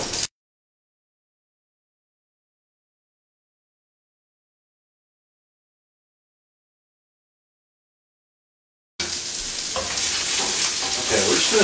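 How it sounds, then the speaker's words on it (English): Sliced mushrooms sautéing gently in olive oil in a pan, cooked as a pizza topping; after a long stretch of silence, a soft steady sizzle rises near the end. "we're just going to gently saute these in olive oil"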